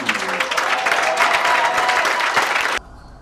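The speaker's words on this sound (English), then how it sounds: "As we get on our feet and clap powerfully for Joan Mugenzi." A book launch audience on its feet claps powerfully in a loud, dense burst that holds for nearly three seconds and then cuts off abruptly into quiet room tone.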